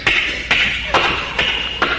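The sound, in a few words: vocal imitation of footsteps walking down a sidewalk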